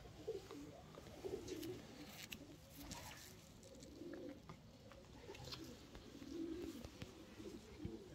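A racing pigeon held in the hand gives soft, low coos in several short bursts, faint and close, against a quiet background.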